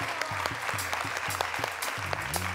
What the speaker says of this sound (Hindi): बहुत ही ढेर सारी तालियों में जहाँ रहाई को हम यहाँ पे वेलकम करेंगे